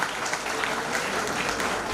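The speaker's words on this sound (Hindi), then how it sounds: "एक जोरदार ताली है इनके लिए" An audience at a ceremony gives a guest a round of applause, a dense, even clatter of many hands held steady for a couple of seconds, with no voices over it.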